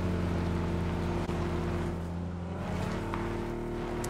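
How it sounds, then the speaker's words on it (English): A vehicle engine drones nearby in the video game PUBG, a steady low hum holding at moderate level for the whole stretch with no talk over it. "I hear a car."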